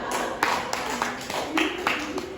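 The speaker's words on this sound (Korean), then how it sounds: "박수 한번 할까요?" At a church youth worship service, a group gives several sharp, scattered hand claps while a voice keeps talking over them.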